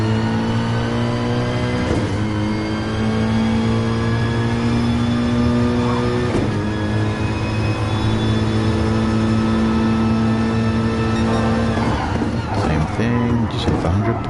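A race car engine held at full speed on a track, a loud steady high whine that shifts pitch briefly at a few points, with a voice talking over it.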